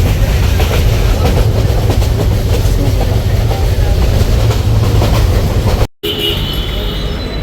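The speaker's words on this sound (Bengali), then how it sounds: "চলন্ত ট্রেনে" A passenger train in Bangladesh rolling along loudly, steady rumble and rhythmic clatter of wheels on track, briefly cutting out near the end.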